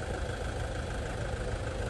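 Diesel engine of a 1998 Toyota Land Cruiser, 4.2 litre, idling with a steady low rumble and a faint knocking texture, close and continuous with no voices.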